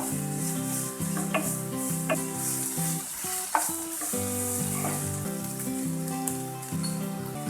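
Onions frying with ginger-chilli paste give a continuous sizzle in the pan, heard under a steady tonal musical backing with occasional stirring knocks.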